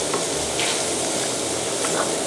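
Vegetables and cooked green peas being stir-fried in a pan, giving a steady, close, continuous sizzle with faint stirring scrapes throughout, no voices.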